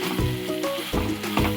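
Potato and chana dal curry sizzling in a pan as it is stirred, a loud close frying hiss with short bursts of scraping motion.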